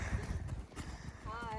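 Horse hooves clip-clop on a mountain trail during an endurance race near Mount Rose on the Tahoe Rim Trail, a soft uneven run of hoofbeats under a brief spoken exchange.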